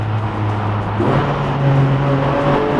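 The 4-liter engine of a Porsche 718 runs with a steady mid-toned drone that shifts pitch partway through, heard close from inside the car, briefly and without talk.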